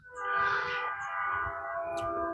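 A train passing at a distance, a sustained horn-like tonal drone swelling in and holding steady over a low rumble, fairly faint.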